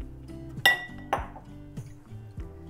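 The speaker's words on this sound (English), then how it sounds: "After 10 minutes, you lift up the bowl." A bowl being lifted off a plate of softened butter in a kitchen, a few ringing ceramic clinks and knocks of dishes touching, close and fairly clear with no voices.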